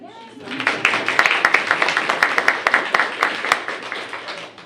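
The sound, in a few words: audience clapping for an award winner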